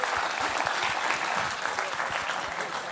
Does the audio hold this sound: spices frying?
no